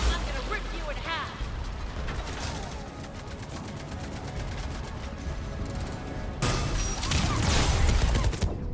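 A turret in Mass Effect 3 fires in rapid mechanical bursts, a dense rattling stream of shots over a rumbling battle bed, then growing louder and harsher in the final seconds.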